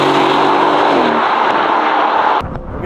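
An Aston Martin Vantage F1 Edition's engine pulls hard under acceleration, a loud sustained roar with rising harmonics that cuts off abruptly near the end as the revs drop.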